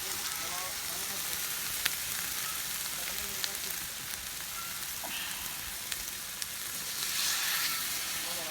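A ginger, garlic and onion paste with turmeric, chili, coriander powder and garam masala sautés in oil for chicken khichuri. It makes a steady, close sizzle with scattered crackles and stirring, growing slightly louder toward the end.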